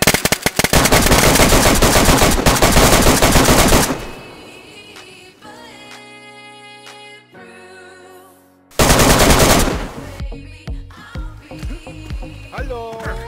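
Loud, dense bursts of rapid automatic gunfire in the video game DayZ, a lull with quieter game sounds and tones, then more heavy firing.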